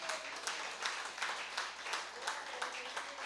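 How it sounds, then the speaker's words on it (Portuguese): Church congregation clapping for Jesus during a Bible class on the Pauline epistles, a steady patter of many hands with rhythmic swells, moderately loud and continuous throughout. "Você pode aplaudir Jesus por isso?"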